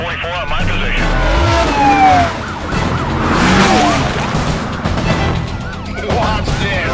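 Police car siren wailing in the Need for Speed Carbon racing game, its rising and falling tone sweeping over engine roar and car noise as cops close in, with voices talking over it.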